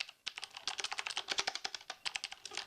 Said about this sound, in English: So this is the Cherry MX Blue variant.